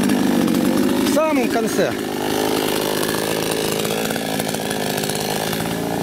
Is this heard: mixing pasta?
no